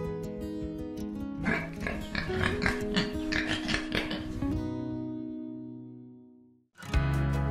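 Jeju black pigs grunt and squeal in a busy, overlapping chorus for several seconds, then things quiet down before a short low rumble at the end.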